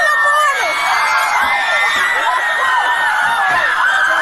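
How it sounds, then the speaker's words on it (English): A dense crowd screams and shouts continuously and loudly at an event, a steady wall of high-pitched voices with no break. "Why are we screaming like animals?"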